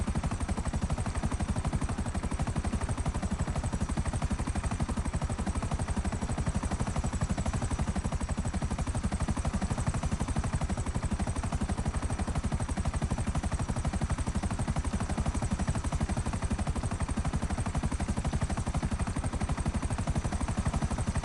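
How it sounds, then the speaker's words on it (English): A helicopter flying in GTA Online, a dense, steady rotor chop and engine roar that fills the whole stretch, loud and unbroken, heard from close by inside the action. "Our chopper's still good."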